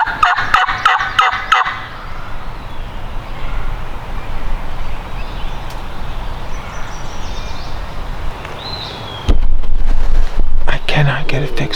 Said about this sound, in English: I've got a bird gobbling.